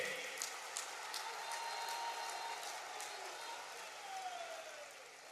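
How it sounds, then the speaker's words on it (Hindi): Crowd at a government project foundation-stone event in Sahebganj applauding young Pahadiya recruits, faint, distant sustained clapping with a steady wash of crowd noise. "सब लोग ताली बजा करके इनका अभिनंदन कीजिए।"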